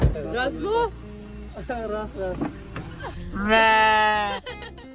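Loud, wavering sheep bleats close by from a sheep carried in a vehicle, several cries in a row with a long drawn-out bleat near the end, over low engine rumble.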